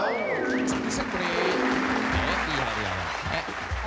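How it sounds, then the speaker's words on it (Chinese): Studio audience applause on a Taiwanese variety show, a dense crowd clapping throughout beneath hosts talking and laughing over it. "掌声鼓励"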